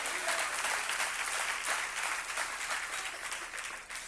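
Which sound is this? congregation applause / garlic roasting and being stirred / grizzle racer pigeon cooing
congregation applause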